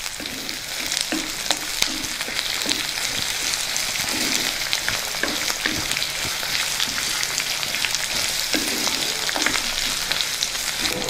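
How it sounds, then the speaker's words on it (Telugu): Onion pieces and curry leaves fry steadily in oil in a pan for cluster beans fry, a continuous close, even sizzle with occasional stirring scrapes throughout. "ఈ ఉల్లిపాయ ముక్కల్ని ఒక 5 నిమిషాలు బాగా వేగనిద్దాం"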